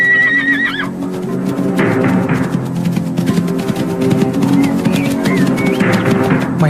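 A horse whinnies loudly and up close, then snorts and neighs again amid shuffling hoof movement, with no voices present.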